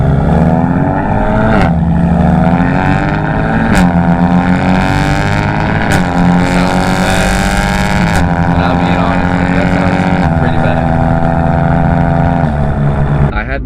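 A BMW M2, M3 or M4 exhaust with a single mid pipe roars loud and close, rising in pitch through several gear shifts with brief dips between pulls, and the engine drones steadily throughout.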